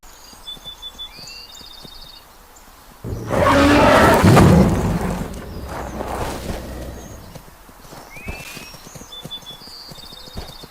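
A horse in the Roblox game Ecos La Brea, set near tar, gives a loud two-second burst of thrashing, galloping hoofbeats, then fades back to a steady bed of birdsong and chirps.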